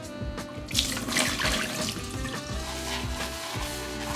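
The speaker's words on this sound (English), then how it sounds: "I'm going to go ahead and pour this water out in the sink" Water from a warmed chawan, a Japanese matcha tea bowl, is poured into a kitchen sink, a steady close splashing stream running for several seconds with no talk.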